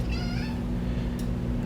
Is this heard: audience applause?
no